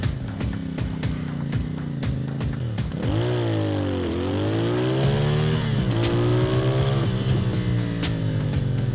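A CFMoto motorcycle engine, miked on the bike itself, runs loud and close, revving up and down in rising and falling sweeps with a steady rough drone between revs.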